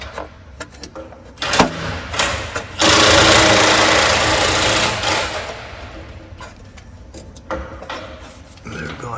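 A wheel on a wrecked Mercedes E55 AMG W210 spins after its bent shield is pried away, giving a steady mechanical whirring with scattered clicks and a louder sustained stretch in the middle.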